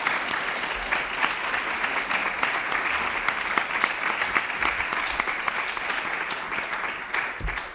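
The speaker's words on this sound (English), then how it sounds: "We can give them a round of applause." Sustained applause from an audience at a public safety and criminal justice committee hearing, steady clapping filling the room for several seconds with no talk over it.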